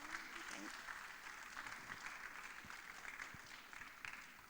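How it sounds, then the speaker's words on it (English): A public lecture audience gives sustained applause after a speech in a large hall, a steady wash of clapping heard from a distance, with a voice speaking over it. "can you give Mr. President another round of applause, ladies and gentlemen?"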